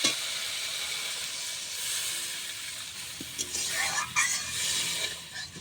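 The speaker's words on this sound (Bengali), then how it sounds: "এবার জল দিয়ে দেবো, বেশি ভাজলে আবার সরষে হচ্ছে তেতো হয়ে যাবে" Water added to a hot pan of frying mustard spice paste, for a pomfret curry, sets off a soft, steady steam hiss, with brief crackles and sputters flaring near the end and no voices.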